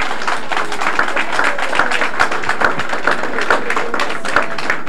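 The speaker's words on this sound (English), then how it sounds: "I think we need to give them a round of applause." An audience at a 1977 Buffalo mayoral campaign event at St. Augustine's Center applauds the band with loud, dense, sustained clapping that keeps an even level throughout, a few sharper individual claps standing out close by.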